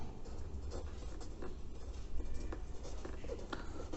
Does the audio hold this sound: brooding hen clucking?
no